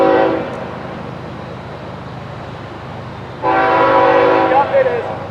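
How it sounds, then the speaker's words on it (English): A northbound freight train rumbles past nearby with a continuous low roar, and its horn blasts loudly for a couple of seconds near the start and again for the final two seconds, with faint talk underneath. "I'm going to keep recording because there's another train coming north."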